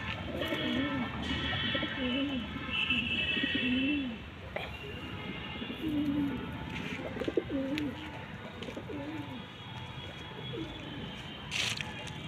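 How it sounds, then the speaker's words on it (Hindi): Devbandi pigeons coo softly and repeatedly in low, throaty rolls, with faint background chirps and rustling. "बहुत ही अच्छी क्वालिटी के कबूतर हैं।"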